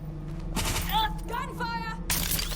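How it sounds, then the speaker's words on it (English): Bursts of gunfire in the video game Watch Dogs Legion crackle through a busy mix of music and effects, several rapid shots clustered together, fairly loud. "Gunfire!"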